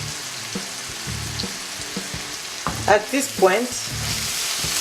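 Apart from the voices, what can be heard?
frozen vegetables frying in a pan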